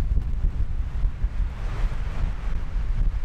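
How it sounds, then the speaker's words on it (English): Strong wind buffets the microphone on the rocky Snowdonia coast, a steady loud roar with gusty low rumbles throughout and a faint wash of surf beneath, no voices. "But the wind, wow."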